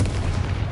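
A Confringo blasting spell from the game Hogwarts Legacy bursts in a short, heavy, low boom, close and loud.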